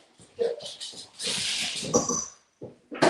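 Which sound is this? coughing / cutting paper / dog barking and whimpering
dog barking and whimpering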